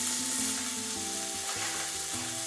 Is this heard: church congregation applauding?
no